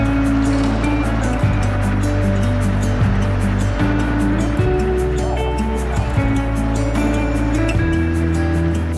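A flooded river in the United States surges at bridge level, a loud, steady roar of rushing water with a continuous low rumble throughout, close and dense with no pauses.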